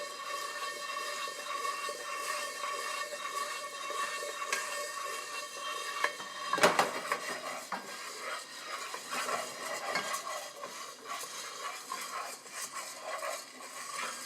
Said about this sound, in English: So we'll just keep stirring this.